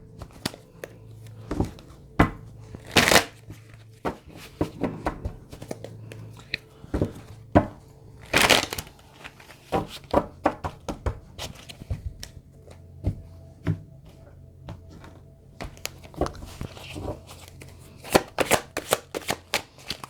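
Tarot cards shuffled by hand in a long run of quick, crisp riffles and slaps, close and fairly loud, with a few louder bursts and no talking.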